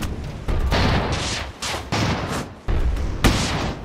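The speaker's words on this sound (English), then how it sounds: "Just going to hope we can do some damage here with our rifles." Rifles fire in the airship battle game Airships: Conquer the Skies as a string of loud, close bursts, several overlapping blasts of sharp noise with brief gaps between them, no talk over them.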